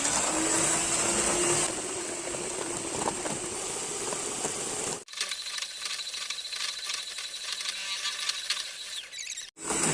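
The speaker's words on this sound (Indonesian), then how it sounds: "Ini akan saya mixer dulu sampai tercampur rata dan sampai putih" An electric hand mixer beats cake batter for a batik sponge cake with a steady, loud whir. It cuts out abruptly for a moment, then continues at a lower, rattling pitch.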